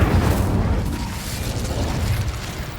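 A fire spell cast in Hogwarts Legacy brings a loud, rumbling whoosh and roar of flames with a booming low end that fades slowly over nearly three seconds, with no speech.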